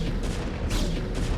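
Photon cannon in StarCraft firing repeatedly in a base fight against Zerg, heard as a rapid series of punchy blasts over dense battle noise, fairly loud with no voices.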